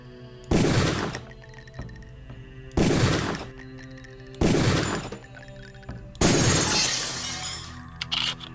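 Gunfire in the video game Deus Ex: four loud, sharp bursts spaced a couple of seconds apart, each with a harsh, shattering crack that rings and decays, with no talking.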